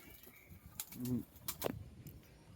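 Pigeons give a short, low, murmuring coo, faint and close, with a few soft clicks and rustles around it.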